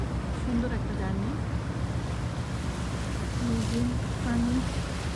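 A river launch moves steadily on the water, its low engine drone and rushing water and wind forming a continuous roar, with a voice speaking over it in places.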